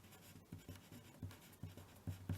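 Handwriting in short strokes, likely a marker or pen on paper or a board, with about eight distinct scratchy bursts spaced irregularly, close and moderately quiet, with no talking.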